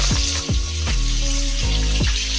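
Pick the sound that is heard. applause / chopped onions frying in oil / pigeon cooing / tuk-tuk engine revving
chopped onions frying in oil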